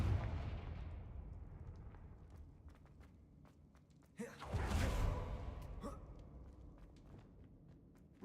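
A Confringo explosion spell cast in a video game lets out one sudden blast that swells and fades over about a second, set between softer game sounds and light footsteps.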